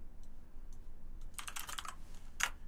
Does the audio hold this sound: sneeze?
no